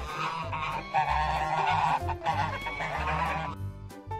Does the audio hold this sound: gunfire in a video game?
no